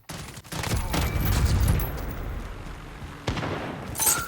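Gunfire in Call of Duty: Modern Warfare: a loud, dense fusillade with booming low-end blasts that swell over the first two seconds, fade into a rumbling tail, then a sharp renewed burst near the end.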